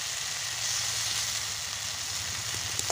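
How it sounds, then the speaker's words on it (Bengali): Potatoes fry in oil in a pan for a Bengali okra and potato fish curry, giving a steady, dense sizzle with a low hum underneath and a couple of faint stirring clicks near the end. "এবারে আলুটা কতটুকু সিদ্ধ হয়েছে দেখে নিচ্ছি একটু"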